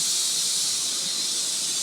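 Steady hiss of steam escaping a pressure cooker after its whistles, with the gas stove already switched off in a home kitchen; a continuous, close, even rush with no talk.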